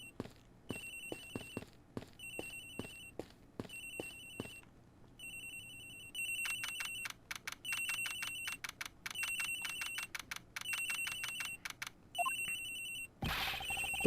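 A telephone rings repeatedly in the Ace Attorney Investigations video game, bright electronic trills in evenly spaced bursts over faint clicks, with ticking taps early on and a sharp noise burst at the end.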